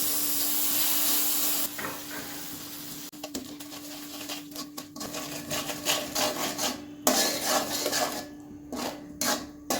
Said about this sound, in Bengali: ক্যারামেলটা এভাবে অনবরত নাড়াচাড়া করতে হবে যাতে কড়াইয়ের তলানিতে লেগে না যায়